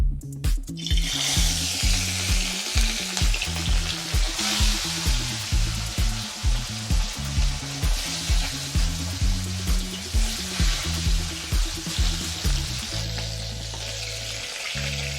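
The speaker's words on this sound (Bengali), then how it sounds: "তেল গরম হয়ে গেছে, নুন হলুদ মাখানো মাছগুলো এখন ভেজে নেব।" Pieces of bhola fish rubbed with salt and turmeric fry in hot oil, giving a steady, close sizzle that stays even throughout under a rhythmic, pulsing low background.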